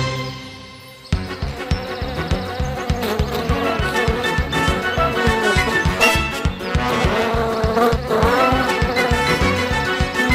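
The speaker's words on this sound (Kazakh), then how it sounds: "Ақырын сөйле, аралар бізді естіп қойса, ашуланады." Cartoon bees buzzing in an animated children's film, a loud, steady insect drone that starts after a brief quiet opening and is mixed with rhythmic pulsing music.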